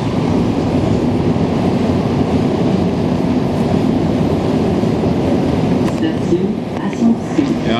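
A Montreal STM MR-63 metro train carries passengers in a steady, loud, unbroken rumble and roar from inside the moving car, with a few faint clicks near the end.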